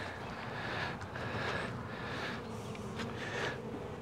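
Honeybees from a small colony at an open hive during a queen inspection, giving a steady, dense buzzing hum with a few louder passes of nearby bees and some wind noise, with no talking.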